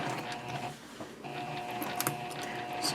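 A sewing machine stitches the bottom seam of a fabric basket with a 2.5 stitch length, giving a steady, close mechanical whir with a short pause partway through.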